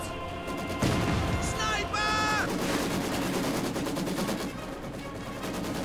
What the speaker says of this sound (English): And a barrage going off.